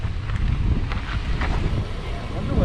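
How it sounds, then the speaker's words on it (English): Gusty wind buffets the microphone outdoors as a Jeep Wrangler JK is aired down before mountain off-roading, a steady low rumble with broadband hiss and faint background voices underneath. "A little windy out here today"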